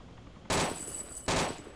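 Two sharp gunshots crack about a second apart, loud and close, with a brief tail after each, in the survival video game DayZ.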